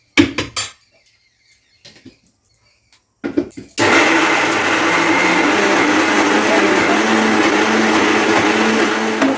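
Soaked dal, matar and masoor, being ground into a dry, slightly coarse paste in a mixer-grinder at home, a loud steady whirring drone that starts after a few short bursts and quiet pauses and then runs continuously to the end.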